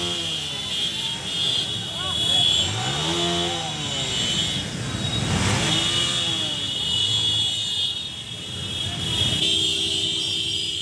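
Many motorbikes pass along a road during a political rally in Assam. Their engines rise and fall with revving and horn-like whines, and a voice talks over the steady traffic noise.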